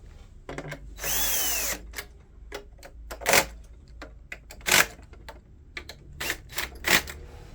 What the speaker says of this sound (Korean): 빠짐없이 나사를 어, 모두 조이시고